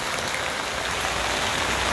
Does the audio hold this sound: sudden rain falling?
yes